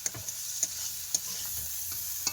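Fish (latha, puti and mourala) going into a pan of spice masala that is being fried and stirred, a steady close sizzle broken by a few sharp clicks from stirring, with no voices.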